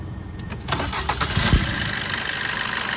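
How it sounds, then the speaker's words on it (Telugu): A 2018 Maruti Brezza ZDI+ diesel automatic cranks briefly and fires on the first try, settling straight into a steady, loud close-up diesel idle with no talking. "సింగిల్ సెల్ఫ్లో అయితే బండి స్టార్ట్ అయింది సార్"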